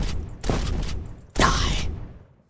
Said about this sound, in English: Tyramity adds, among other things, guns. And I just think that these guns look and feel really cool.